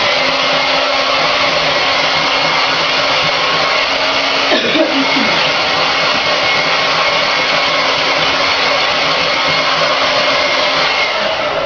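A hair dryer blows steadily and loudly at close range while drying facial bleach, a constant whooshing drone with a brief shift in pitch midway.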